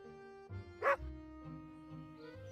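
A single short dog bark sounds in the video game Dark Tales, set against a quiet, steady musical drone.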